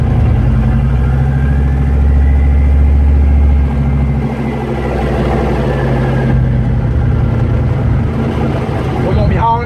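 A Chevrolet small-block 400 V8 runs with a deep, steady rumbling drone during a test drive, loud and close, with someone talking over it.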